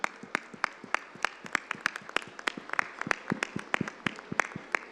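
Audience at an agricultural show dairy cow award clapping for a prize-winning cow's owner, a fairly sparse scatter of individual claps with a few sharp near hands standing out, moderately quiet, no talking.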